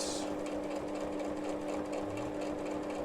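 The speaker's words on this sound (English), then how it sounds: "just keep going and then just sew right off the edge" A sewing machine stitches steadily through cardboard to reinforce a journal pocket, giving a continuous, even mechanical whir close by with no pauses.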